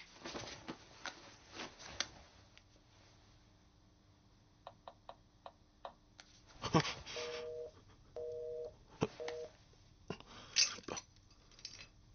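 A repeating busy tone, short steady beeps in a regular on-off rhythm, sounding through a phone amid faint background noise and brief voices.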